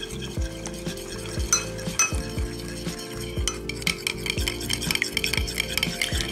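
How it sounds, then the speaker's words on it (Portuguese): A spoon scrapes and clinks against a bowl while a salad is stirred and mixed, with repeated close strokes in an uneven rhythm and no talking. "Vou misturar um pouquinho isso aqui."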